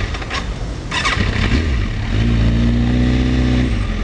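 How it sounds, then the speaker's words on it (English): A motorcycle engine runs in stop-and-go traffic in Waikiki while overheating, with a steady close idle rising into a sustained low drone, and passing traffic noise around it. "This is too much for my motorcycle because it's just stop and go, stop and go, stop and go. And my engine is overheating."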